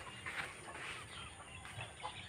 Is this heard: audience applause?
no